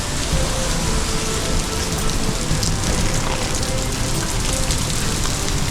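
Heavy rain pours down in a dense, steady hiss on the Kedarnath trek, loud and continuous throughout without any breaks.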